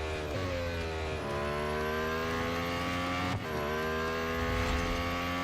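Lotus Emira GT4 race car engine in the Real Racing 3 game, a steady high whining drone that holds its pitch, dips briefly with a gear shift, then climbs again, alone without talk.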